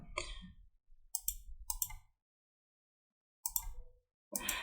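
A computer mouse clicks in a few short, sharp bursts separated by silence, close and fairly quiet, with no talk.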